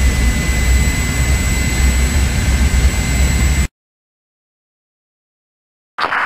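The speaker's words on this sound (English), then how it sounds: "Keep that plane low." Jet aircraft engine roar in the video game Project IGI, loud and steady for several seconds, then cut off into silence before resuming briefly at the end.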